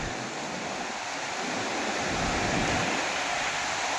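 A steady, heavy roar of floodwater rushing over a weir during heavy rain fills the whole stretch, a dense continuous wash of noise with no voices.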